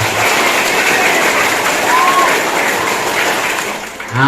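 Students at a high school orientation applaud together in a loud, continuous burst of close clapping that holds steady before tailing off at the end.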